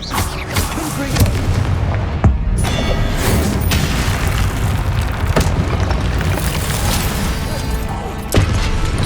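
Spell blasts from Hogwarts Legacy, the fire curse Confringo, burst in dense booming explosions, a steady roar of impacts and crackling debris with sharper hits spaced through and brief louder peaks.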